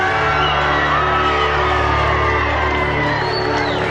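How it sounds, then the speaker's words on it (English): A large outdoor crowd of about two thousand people, packed some fifty deep, greets President Kennedy's arrival with a steady wash of cheering, whoops and shouts that stays fairly loud and continuous throughout. "You hear the crowd applauding."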